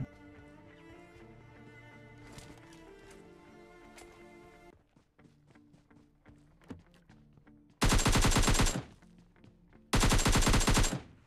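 Gunfire in a battle royale shooter as two knocked-down enemies in a red zone are finished off: two loud sustained bursts of automatic fire about two seconds apart, following quieter game sounds and music, with no voice.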